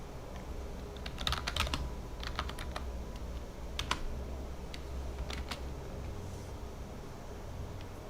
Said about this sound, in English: I'm used to using the keyboard for this shit.